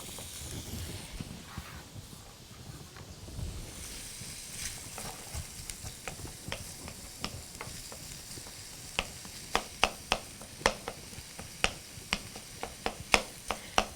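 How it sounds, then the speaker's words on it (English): Crumbled sausage sizzles steadily in a pan with chopped celery tossed in, a soft frying hiss punctuated by sharp crackles and pops that grow more frequent toward the end. "I'm going to go ahead and throw the celery in here."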